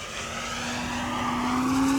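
Hangar 9 Fun Scale P-47 Thunderbolt RC model airplane on a 6S electric setup flying loops at speed, giving a steady, loud motor and propeller whine that slowly rises in pitch and volume.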